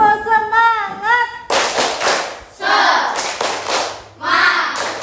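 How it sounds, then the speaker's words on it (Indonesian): A classroom group of children claps a rhythmic spirit clap in sharp bursts of hand claps, preceded by a brief spoken prompt and a few voices between the clapping sets. "Tepuk semangat ya, tepuk semangat."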